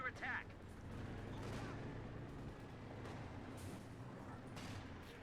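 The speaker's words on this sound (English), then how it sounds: "Flak half track evaporates these riflemen, eviscerates them, vaporizes them." A flak half-track fires on riflemen in the Company of Heroes video game, its rapid bursts of gunfire rattling through steady battle noise while a voice talks over the action.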